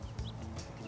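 A chicken clucks briefly up close, a couple of short soft calls against quiet farm background.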